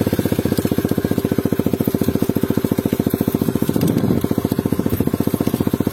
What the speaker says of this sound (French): on va lâcher lentement l'embrayage, sans trop accélérer. Et la moto, elle va partir toute seule